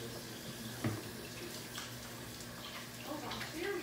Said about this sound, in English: But first, I need to wash my hands.